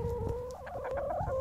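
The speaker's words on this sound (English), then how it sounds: "Here are my chickens." Backyard chickens in a DIY pallet-run coop cluck close by in a short burst of low, throaty calls, with no talk over them.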